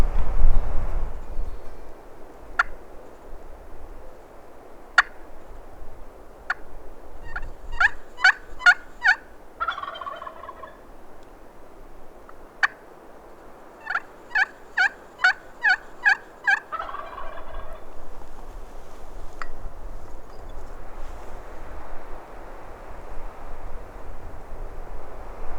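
Wild turkey gobbles from a roosted gobbler on public land ring out in two clusters of rapid, rattling calls, fairly distant, over a quiet outdoor background with a few single sharp notes between.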